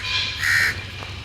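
A crow gives a single harsh, nasal caw up close while being fed, a brief loud call standing out over faint background noise.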